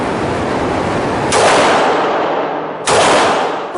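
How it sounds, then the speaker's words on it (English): A Glock 19 Gen 4 pistol fires two sharp shots about a second and a half apart, each loud blast trailing off over a steady background roar at a range. "First shots at the Glock 19."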